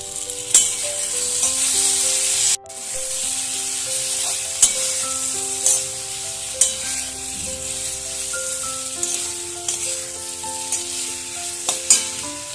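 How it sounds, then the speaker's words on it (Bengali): Potatoes and spices sauté in a pan with a loud continuous sizzle and repeated spatula stirring clatters, under faint tonal background music. "আবারও ভালোভাবে কষিয়ে নিচ্ছি"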